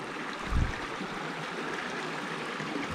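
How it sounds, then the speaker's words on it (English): A small creek on the Marrinup Falls walk loop, running with a steady, even broadband rush close by, with a single low thump early on. "How do you like that for a little creek?"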